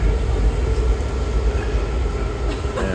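A DC Metro subway train rides between stations, filling the space with a steady, loud rumble of wheels and motors. A faint squeal rises near the end, and no one speaks.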